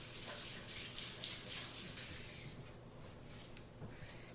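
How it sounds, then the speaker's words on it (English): Hands are washed under a running kitchen tap, a steady close hiss of water that splashes and rubs for a couple of seconds, then drops to a softer trickle, with no talking. "I'm going to wash my hands quick"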